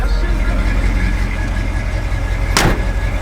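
1971 Chevrolet C10 with Flowmaster exhaust idles with a deep, loud, steady rumble close by, with a brief sharp burst near the end.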